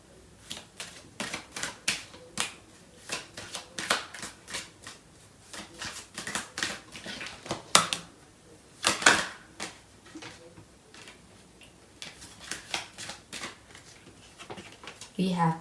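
Tarot cards shuffled by hand in quick, close riffling bursts: crisp papery flutters and taps that come in irregular clusters, with a voice now and then under them.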